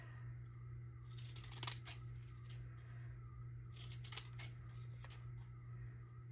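Trimming scissors make a few quiet, crisp snips while cutting around a paper stamp in a craft session, two clearer cuts standing out over a low steady hum.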